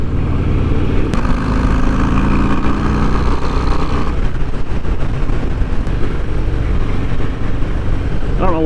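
A 2024 Harley-Davidson Breakout 117 V-twin engine while riding, a loud continuous rumble with shifting engine pitch and wind roar, heard close from the rider's position.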